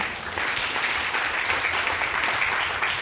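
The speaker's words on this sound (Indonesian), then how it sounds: "Mau tepuk tangan buat Tuhan?" Church congregation clapping during a sermon, a steady dense wash of applause from many hands filling the whole moment, with no talking over it.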